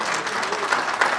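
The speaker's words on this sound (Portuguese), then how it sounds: "Os irmãos querem dar uma salva de palmas para ele." A church congregation at a men's congress gives a brief round of applause, a dense wash of many hands clapping close and steady, with no talk over it.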